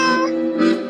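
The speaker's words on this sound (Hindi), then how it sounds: "अरे सिर्फ म्याऊ म्याऊ करने से नहीं होगा" A cartoon cat meows in a Hindi animated story, two drawn-out, close, loud meows with a brief dip between them and no talk over them.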